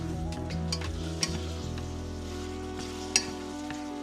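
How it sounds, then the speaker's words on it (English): Korean Samyang Buldak hot chicken ramen noodles sizzle steadily while being stir fried in a pan, with a constant frying hiss, a low hum underneath and a couple of sharp clicks of utensils. "This is the sound you want to hear when you're stir frying the noodles."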